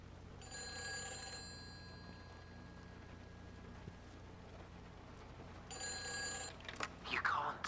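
An old wall-mounted telephone rings in Everybody's Gone to the Rapture, with two bursts of bright, rattling bell tones separated by a quiet gap. A low ambient hum sits underneath, and a soft swooping effect closes the passage.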